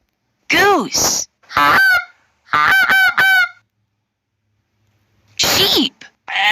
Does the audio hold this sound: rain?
no